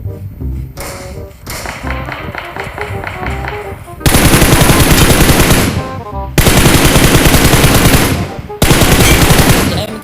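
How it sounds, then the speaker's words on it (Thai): Rapid automatic gunfire from the PUBG Mobile video game comes in loud bursts separated by short gaps, with lighter tapping shots early on and faint voices in the background. "ลูกปืนอะไรยิงผม ข้างหลังมันก็ยิงพี่"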